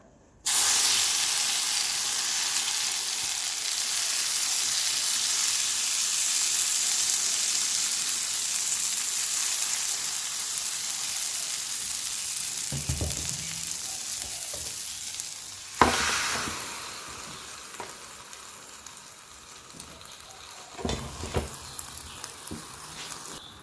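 Egg fried rice batter hits a waffle maker greased with cooking spray, a loud sustained sizzling hiss that sets in abruptly and then fades and softens, with a clunk of the lid and a few crackles and knocks near the end.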